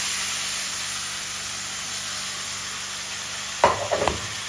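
Mustard seeds, shallots and crushed chili sizzling in hot oil as a tempering, a steady faint hiss that ends in a few sharp crackling bursts when it is tipped into cooked jackfruit.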